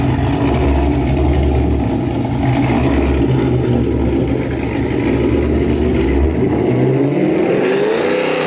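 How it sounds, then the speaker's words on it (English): An engine fitted with a damaged Whipple supercharger idles loudly and steadily up close. Near the end a rising whine climbs over the rumble. "See how it idles."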